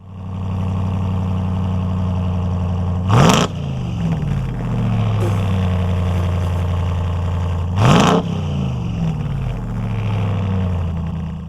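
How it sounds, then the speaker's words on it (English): 2021 RAM TRX pickup with dual exhaust and 5-inch matte black tips, idling with a deep steady rumble broken by two sharp, loud revs a few seconds apart. "Let's take a listen to that exhaust."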